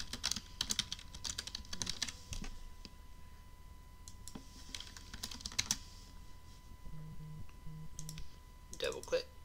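Quick clicking keystrokes on a computer keyboard come in short bursts, close and fairly soft, while someone talks over the typing.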